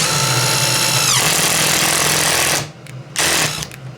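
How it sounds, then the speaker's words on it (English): A DeWalt 12V brushless drill in low range boring with a 1-inch speed bore, a loud steady motor whine with grinding bit chatter that slows, then cuts out briefly and restarts for a short burst. "Let's put this in low range here first, and let's try a 1-inch speed bore."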